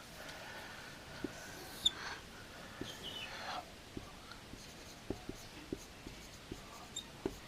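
Pen or chalk writing during a Class 12 maths lecture on relations and functions: faint, quiet scratching strokes with a run of small taps in a near-silent room, and no talk.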